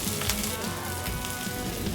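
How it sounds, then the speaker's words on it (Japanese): Hamburger patties sizzle on a hot grill at Big Bad Burger, an American-style burger restaurant in Misawa, Japan: a steady, dense crackling hiss that holds without pause, close and fairly loud. "ジュージューという音、漂ってくる肉の香り"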